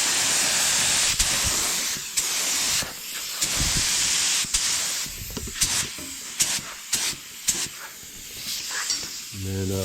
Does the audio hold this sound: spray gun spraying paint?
yes